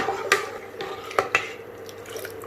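Rice kheer of broken rice, milk and water gets stirred in a pot, a spoon scraping and clinking against the sides in a few soft, irregular strokes over a quiet background.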